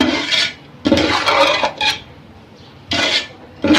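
Rice being mixed in a pan for sweet mutanjan, with loud scraping, rasping bursts of spoon against metal in several separate strokes and brief pauses between them.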